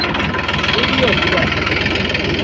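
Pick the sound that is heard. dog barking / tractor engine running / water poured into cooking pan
tractor engine running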